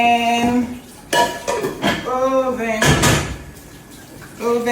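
Pots and pans clatter and knock in a home kitchen while grilled catfish goes into the oven, bringing several sharp metallic bangs and a door-like thud, with a person talking in between.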